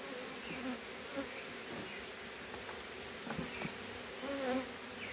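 Honey bees buzz steadily around a beehive where an apiarist is working the honey super, a dense close insect drone with wingbeats swelling and fading as individual bees pass near.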